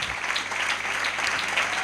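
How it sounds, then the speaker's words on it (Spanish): Applause from a dinner audience at an award ceremony, steady dense clapping filling the room for the nominees, loud and continuous without talk. "para que puedan tener un aplauso de toda la sala"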